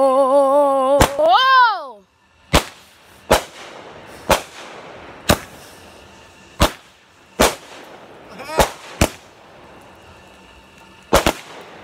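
Backyard fireworks going off: a rising whistle, then a string of about nine sharp, loud bangs spaced roughly a second apart, echoing briefly in open air.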